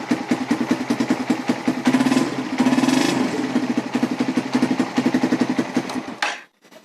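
A Suzuki Satria/Raider FI motorcycle engine fires up on the electric starter and settles into a steady, close, rhythmic idle before cutting off abruptly near the end.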